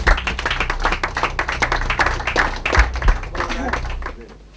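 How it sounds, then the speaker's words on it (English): A round of applause welcoming guests at a football club gathering: a dense, steady patter of many hands clapping that fades toward the end, with voices mixed in. "But let's give our friends a welcome. A round of applause."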